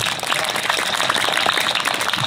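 An audience claps at a Hindi poetry recital (kavi sammelan), a dense, steady wash of many hands sustained throughout at moderate distance, with no voices over it.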